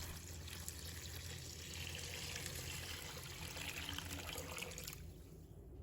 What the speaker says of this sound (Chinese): 把它清洗干净，洗掉表面的灰尘和杂物。